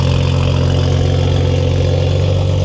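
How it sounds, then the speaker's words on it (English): A deep, steady A90 Toyota Supra engine with an aftermarket exhaust idles loudly and continuously, its low rumble heavy and close with a slight throaty burble from the exhaust. "I love the sound of the Supra with the new exhaust."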